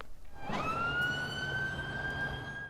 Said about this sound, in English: There may have been sirens in the background